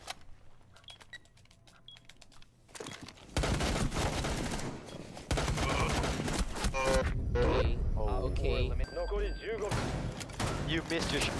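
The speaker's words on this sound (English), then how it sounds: "You missed your shotgun shot" Gunfire in Rainbow Six Siege, a shotgun among it, comes as sharp loud blasts and bursts of clattering shots over several seconds, with game effects and a voice talking in between.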